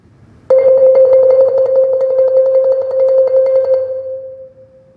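A relaxed, even mallet roll on keyboard percussion bars sustains one bright pitch with rapid repeated strokes for about three and a half seconds, then rings off alone, close and clear.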